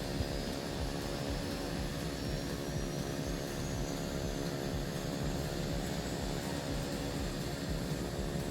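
Aircraft engine spinning up after fuel is introduced in a flight simulator, a steady turbine roar with a rising whine layered over a constant hum, close and continuous with no voices.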